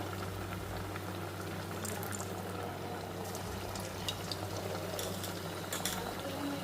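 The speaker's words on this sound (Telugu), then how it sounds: "చూడండి ఎంత చక్కగా వేగుతున్నాయో గారెలు" Corn garelu fritters deep frying in hot oil, a steady sizzling bubble with scattered sharper crackles and pops throughout, close up over a low kitchen hum.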